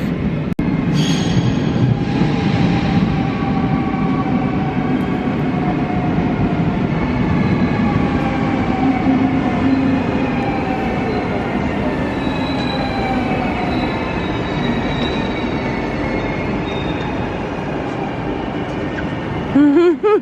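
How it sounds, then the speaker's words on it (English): A double-decker train in the Netherlands rumbles steadily for the whole stretch, with wheels squealing and a faint high whine running over the continuous roar. "Lovely double-decker train."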